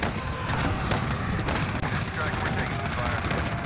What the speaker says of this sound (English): I know we're taking fire, bro.